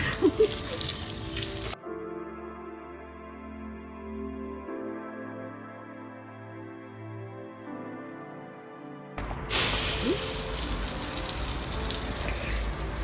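Garden hose water pouring steadily into a tiered strawberry planter, a continuous gushing flow that runs alone for several seconds between outdoor ambience.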